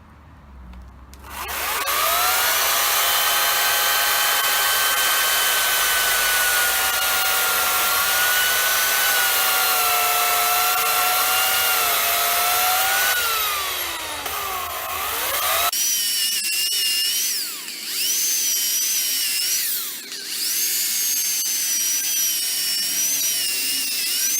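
An Ozito chainsaw cuts through wood, its loud whining motor holding a steady pitch, then dipping as the chain bites, before a second revving stretch with pitch swoops.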